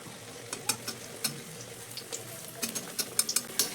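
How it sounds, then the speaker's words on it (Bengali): Food frying one piece at a time in a little medium-hot refined oil in a kadai: soft bubbling with scattered sharp crackles and pops that grow busier toward the end, quiet and close. "অল্প তেলের মধ্যেই কিন্তু এগুলো খুব সুন্দর করে ভাজা হয়ে যাবে"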